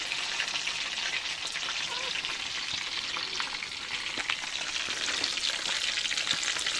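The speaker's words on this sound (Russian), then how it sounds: "окорочка хорошенько поджарились с обеих сторон" Chicken legs fry in a pan with a steady, close crackling sizzle and scattered spitting pops that continue evenly throughout with no voices.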